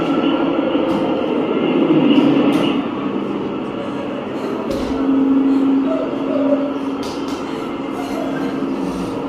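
A train rumbles steadily, its deep mechanical hum and rolling drone filling the air, swelling and easing slightly as it moves.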